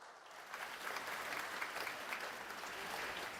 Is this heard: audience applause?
yes